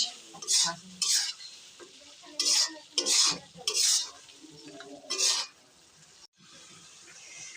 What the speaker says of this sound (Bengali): মাংস কষানো অলমোস্ট শেষ